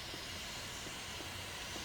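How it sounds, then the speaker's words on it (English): Steady, continuous hiss of steam escaping from a pipe in the Resident Evil 2 Remake video game, broadband and unbroken, moderately quiet with no speech over it. "And of course, there's steam"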